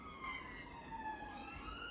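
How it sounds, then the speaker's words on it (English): A passing police car or ambulance siren, distant and steady, wailing in slowly gliding tones for the whole stretch over low background rumble. "There goes a police car or an ambulance now"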